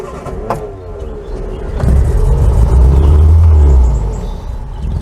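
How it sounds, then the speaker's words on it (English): A barn-find Austin Allegro engine cranks and fires up, settling into a loud, rough, uneven idle with a deep rumbling low end that swells and fades, close by with no talk. "this little car rumbled into life"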